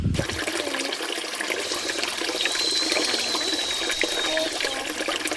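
Water runs steadily from a tap as a Barbie doll's hair is washed, a loud continuous splashing gush that is close and fills the whole stretch, with no talking over it.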